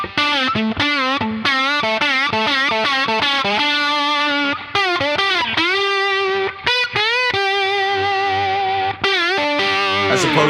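Distorted electric slide guitar, picked with the index finger, plays a single-note line with gliding pitch bends, loud and continuous with brief pauses between phrases.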